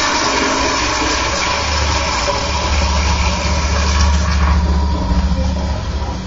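A toilet flushing with a whole hot dog dropped into the bowl, a steady loud rush of swirling water lasting several seconds without any talk.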